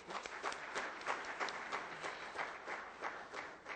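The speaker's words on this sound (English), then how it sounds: "A big round of applause for Kingdom of Saudi Arabia" Audience at a professional accountants' seminar in Riyadh applauding, a steady rustle of many clapping hands with slight swells throughout, fairly distant and even.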